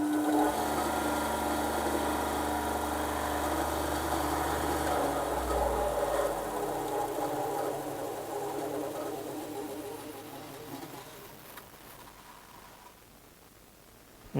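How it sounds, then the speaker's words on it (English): An Einhell TCSB 200 band saw motor runs with a smooth, steady hum and whirr, holding level before winding down gradually toward the end, with no talking over it. "It's just smooth operating motor noise."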